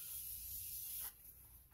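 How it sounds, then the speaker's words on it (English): A face mist spray hisses onto the face in a close, soft burst of about a second, followed by a brief second puff. "So I'm going to spray my face one more time."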